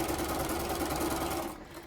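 A sewing machine runs steadily, stitching quilt blocks right sides together with a close, continuous rhythmic hum that trails off at the very end.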